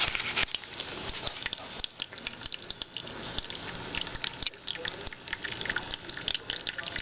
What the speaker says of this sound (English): the antimicrobial liquid is now being deposited throughout the side.